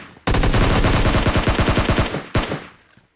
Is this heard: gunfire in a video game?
yes